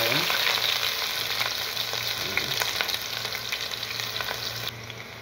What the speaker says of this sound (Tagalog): So, mga kabosan, magigisa na tayo. So, unahin natin ay ang red onion.